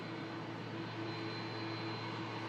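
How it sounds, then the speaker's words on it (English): Aer Lingus Airbus A330 jet at Manchester Airport, a steady distant broadband roar with a faint low drone, continuous and unbroken with no talk. "Another aircraft heading down to Orlando. Aer Lingus 330."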